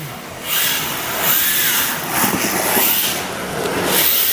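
A Re-R HYBRID RC drift car accelerates around the K-stadium track, its electric motor whining in loud, sustained surges that rise and fall over several seconds, close and alone without voices.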